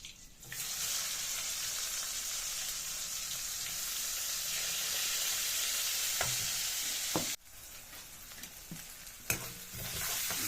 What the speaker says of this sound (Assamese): পিঁয়াজটো অলপ অকণ ভাজি লওঁ